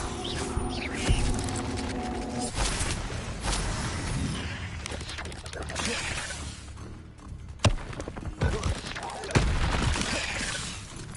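Spellcasting combat in Hogwarts Legacy, including the Expelliarmus disarming charm, with sharp crackling blasts and impacts at irregular intervals over a busy mix of battle noise, and a voice speaking at moments.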